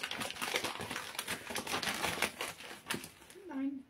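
A brown paper takeaway bag holding half a roast chicken and a bread roll is opened, giving a stretch of close, busy crinkling and rustling of paper, with a voice speaking briefly near the end.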